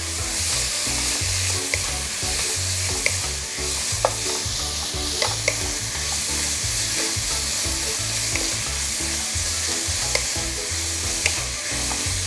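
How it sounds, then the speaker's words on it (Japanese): Meat sears in a tablespoon of sesame oil over high heat, giving a dense, steady sizzle and crackle with small sharp pops and occasional stirring, close up and continuous without any voices. "これは強火ですぐ焼いてください。"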